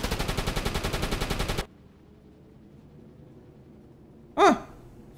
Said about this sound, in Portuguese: Deixa eu ver se o pequenininho tá atirando